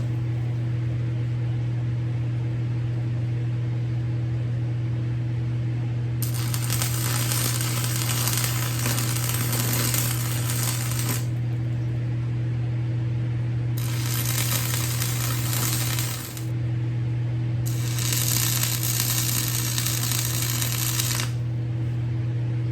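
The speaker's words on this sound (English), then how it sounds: "So I'm going to go ahead and clamp the caster onto here and tack weld it on there" A welder tack welds a caster onto a drill press stand in three crackling, sizzling bursts of a few seconds each, set over a steady low electrical hum, close and loud with no talking.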